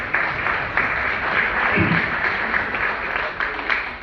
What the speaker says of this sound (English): Give the family a round of applause for that.